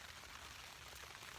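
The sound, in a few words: rain and sleet falling outside the tent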